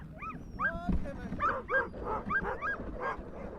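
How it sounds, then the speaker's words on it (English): Iditarod sled dogs bark and yip excitedly in a rapid, uneven series of high, sharp calls and whimpers, fairly close, over a low rumbling background. "Dogs pull the sled."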